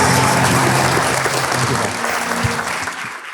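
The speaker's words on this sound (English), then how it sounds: "let's have a round of applause for Matt Sebek and Gerard Kraft." An audience at a live CITY club event claps steadily in a dense, loud round of applause that fades slightly toward the end.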